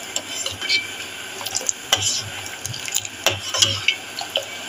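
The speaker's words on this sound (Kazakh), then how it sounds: "Міне осылай қатты қайнап жатыр" Sugar and water syrup boiling hard in a pot over high heat for homemade lollipops, with constant bubbling and irregular pops and clinks of stirring close by.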